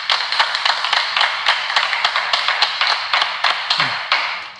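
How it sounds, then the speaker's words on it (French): Audience applause as a crowd claps in an even, rapid rhythm of sharp claps, sustained and fairly close throughout, with a brief voice near the end. "Bravo, ça s'applaudit. Applaudissez."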